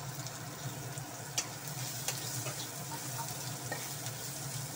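Onion and a bay leaf frying in oil in a pan while making an egg omelette curry, a steady soft sizzle with occasional faint clicks of stirring, close and unbroken.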